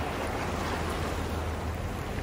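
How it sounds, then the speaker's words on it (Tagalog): Waves break on a beach shore in the morning, a steady close wash of broadband surf and wind noise with no distinct pauses over a couple of seconds. "Medyo malaki yung alon."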